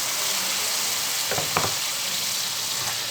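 Mutton kurma frying steadily in hot oil with a broad, hissing sizzle, joined by a few short bursts as ground tomato goes into the pan; no one speaks.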